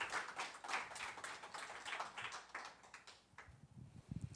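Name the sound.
congregation applauding in church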